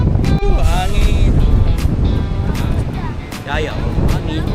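Strong southwest monsoon wind buffets the microphone at a beach, a loud, gusting low roar that rises and falls while people talk over it.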